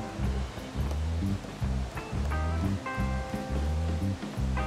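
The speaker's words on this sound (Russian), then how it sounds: "Все, добавляем воду." A steady rush of water pouring into a pot of Tashkent pilaf, broad and continuous, with faint pinging tones scattered over it.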